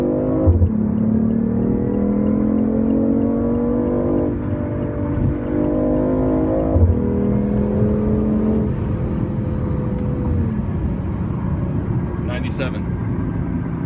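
A BMW i8 accelerating onto a road, its engine note climbing in steady rising sweeps with gear shifts, loud and close inside the cabin as someone talks over it.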